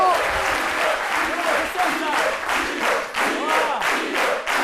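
Television studio audience applauding loudly on a midday show, sustained clapping mixed with crowd cheers and a voice shouting over it.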